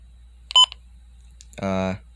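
Midland WR120 weather radio sounding its alert test tones: a short chirped beep burst, a pause, then a louder sustained buzzy tone, close and clear with no voices over it.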